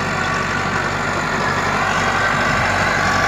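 A Massey Ferguson 385 tractor working a field with a rotavator runs at a loud, steady drone, its heavy engine and rumbling implement filling the sound close by without pause and with no talk.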